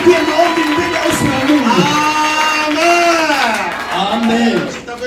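A church congregation cheers and acclaims with loud, overlapping voices and shouts. The sound is sustained over several seconds, then tapers slightly toward the end.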